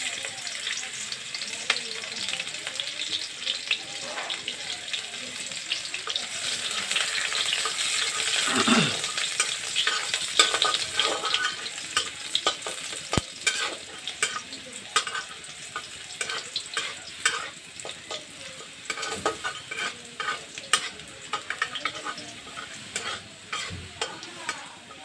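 Chopped garlic, three or four cloves, frying in hot oil with chicken for restaurant-style chilli chicken, a steady broad sizzle with stirring clatter and scraping throughout, louder mid-way, with no talking.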